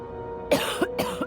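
A character in the video game The Outer Worlds gives two short, close coughs in quick succession over a faint steady background hum.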